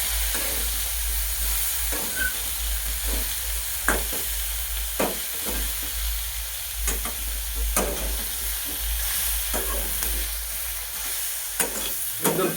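Brinjal frying with chili powder masala being stirred, a continuous sizzle beneath a low hum, with repeated scraping strokes of a spoon spaced a second or two apart.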